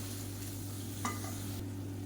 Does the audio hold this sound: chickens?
no